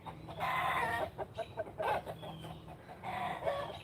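A farm rooster clucks and crows in short repeated bursts, close and fairly loud, with other fowl calling around it.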